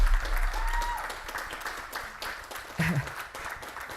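An audience at a revue show claps steadily and fairly loudly across four seconds, a dense continuous patter with a brief voice or cheer cutting through near the end.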